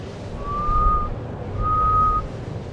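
A person whistles two sustained, steady notes with a short pause between them, imitating how a young child learning to whistle sounds, over a low background hum.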